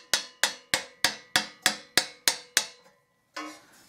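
Nine quick, evenly spaced metallic taps ring out close on the stuck valve casing of a Bach Stradivarius trumpet, each with a short bright decay, followed after a pause by one softer tap.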